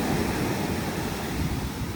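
Loud, high sea waves surge and crash steadily onto the shore at Mamaia beach in Romania, a continuous roaring wash with wind buffeting the microphone and no voices.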